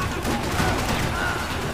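Rapid gunfire in the video game Max Payne 3 crackles in a dense, continuous burst of overlapping shots with no pauses.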